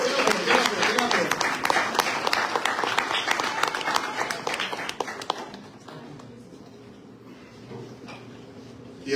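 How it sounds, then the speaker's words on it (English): An audience applauds a poet at a poetry reading, loud clapping for about five seconds that thins out and fades, with voices in the room. "Let's give a round of applause for Donovan McAfee, y'all."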